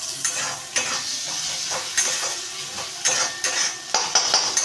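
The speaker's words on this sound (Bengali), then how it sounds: "মশলাটা এবার ভালো করে আমি একটু কষিয়ে নিচ্ছি।" Chopped tomato and spice masala sautéing in a pan for a homemade egg biryani, with a steady sizzle, repeated stirring scrapes and light clinks of a utensil against the pan, close and continuous.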